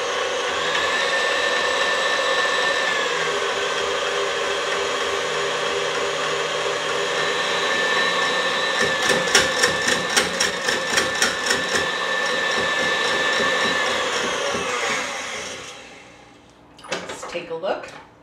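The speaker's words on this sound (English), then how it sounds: "And you can use the exact same beaters. And now we want these whipped up." Electric mixer beaters whip cream in a bowl for a lemon curd mousse cake, a steady loud whirring drone with a burst of rattling taps partway through before the motor cuts off.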